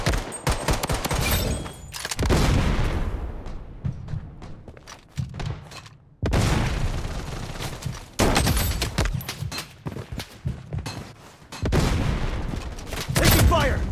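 Gunfire from the mobile shooter BloodStrike comes in loud, dense bursts of rapid shots and heavy thuds, broken by short quieter gaps, with a voice speaking briefly in between.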